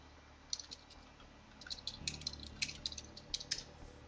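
Quiet, scattered key clicks from a mechanical keyboard with white and blue keys, a few isolated taps then a denser run of light clicking, close but faint against a low background hum during a Rainbow Six Siege session.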